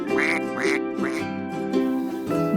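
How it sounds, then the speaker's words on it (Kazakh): A domestic duck quacks about five times in quick succession, nasal and close, each call a short raspy burst with brief gaps between them. "Үйрек барқылдайды."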